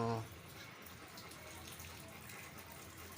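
Water flows steadily and slowly from a tap in a soft, continuous hiss while a Rottweiler is washed, quiet and close, with no talking.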